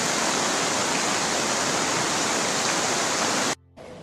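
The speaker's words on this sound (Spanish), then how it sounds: "Bueno, este es el río" A flooded river in Morazán roars as a dense, unbroken wash of rushing water, loud and steady, cutting out abruptly near the end.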